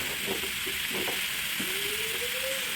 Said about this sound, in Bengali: টমেটো দিয়ে দিচ্ছি